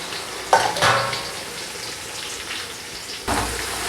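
Onions and green chilies fry in oil for a Muslim-style biryani, a steady close sizzle with two or three louder stirring scrapes and clatters over the crackle.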